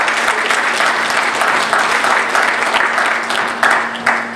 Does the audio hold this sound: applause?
yes